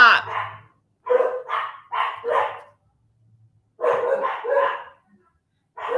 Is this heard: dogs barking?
yes